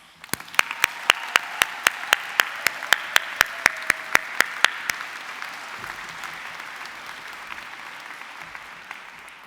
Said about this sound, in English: can we all give our brave younger selves a really big round of applause?